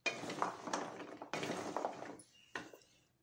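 Bellam gavvalu being stirred in hot jaggery syrup in a metal vessel, three bursts of scraping and clinking spoon-on-pan sounds, fairly close, each tapering off, the last one shorter and fainter, with no talking.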